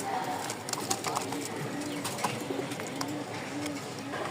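Pigeons coo in a pen at a bird market in Mirpur-1, Dhaka, with low repeated rolling calls over a busy murmur and scattered chirps nearby.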